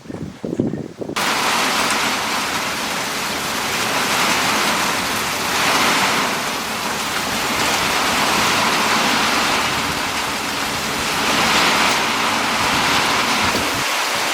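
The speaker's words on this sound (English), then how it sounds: "It's rained almost a ½ inch in the last 15 minutes." Heavy rain pours down steadily at a farmhouse near Lake Superior, a dense, constant hiss that swells and eases slightly in waves throughout, with no voices.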